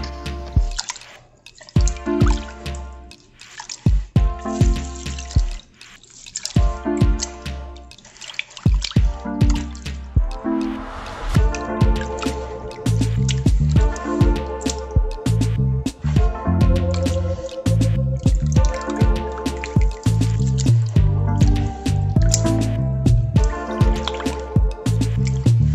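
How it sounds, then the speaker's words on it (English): Rice water strained into a pot, dripping and splashing steadily in uneven wet spatters and trickles that grow fuller and more continuous, close and fairly loud with no talking. "strain it to a pot and let it boil up"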